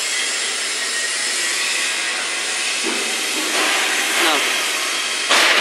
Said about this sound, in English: See, machine is going back.